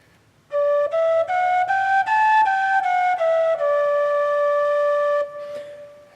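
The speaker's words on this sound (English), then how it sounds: "I'm going to go through some tin whistle techniques" A clear, bright tin whistle plays a short stepwise melody, distinct tongued notes rising and falling, ending on a long sustained tone, solo and close.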